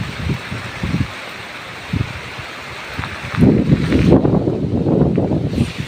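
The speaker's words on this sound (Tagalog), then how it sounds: "Ito na siguro yung bagyo." Storm wind gusts through banana plants outdoors during heavy rain, with rough buffeting bursts against the microphone early on, then a louder, sustained rushing blast in the second half.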